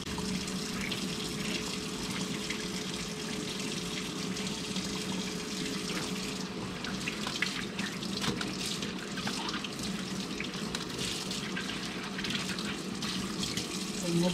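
Tap water runs steadily into a sink while something is washed outdoors at a home, a continuous close splashing rush for about fourteen seconds with slight changes in texture partway through.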